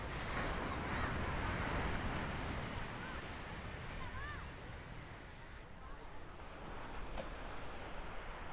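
Sea waves wash onto Lemur beach near Kanniyakumari in a continuous surf roar swelling and easing, mixed with wind buffeting the microphone, heard close and fairly loud.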